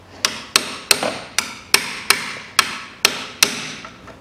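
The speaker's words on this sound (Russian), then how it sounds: "Здесь в этот пропил отвертку в виде зубила забиваем маленько" A screwdriver used as a chisel is hammered into a saw cut in a front control-arm bushing on a 2007 Nissan Note 1.6. Eight sharp metallic strikes land at a steady rhythm, close and loud, with no talking.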